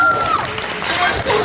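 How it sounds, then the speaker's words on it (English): Brief burst of audience applause at a horror film festival Q&A, a crowd clapping loudly with voices and cheers mixed in over a short stretch. "And yeah, applause."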